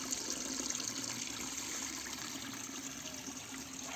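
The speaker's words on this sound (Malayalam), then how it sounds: "ആ വെള്ളം ഒഴുകുന്നതിൻ്റെ സൗണ്ട് കേൾക്കാൻ തന്നെ എന്ത് രസമല്ലേ" Water flows continuously near a village sacred grove, a steady, moderately faint rushing and trickling wash with no talking.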